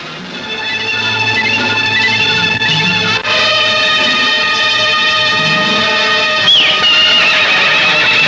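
A horse gives a loud, close whinny, a long ringing neigh that carries on for several seconds, with a faint rustle and hoof movement beneath it and a short squeal near the end.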